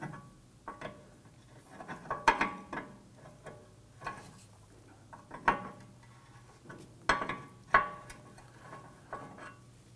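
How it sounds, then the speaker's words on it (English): A wrench working a 21mm nut on the front tie rod of a 2003–2014 Volvo XC90, giving scattered metallic clicks and clanks with quiet gaps between them, fairly close. "so if you have a 21mm wrench, you can loosen that"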